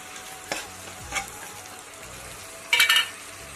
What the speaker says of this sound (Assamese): এতিয়া মই ৰচুন, পিঁয়াজ, জলকীয়া, আদা পেষ্টটো ঢালি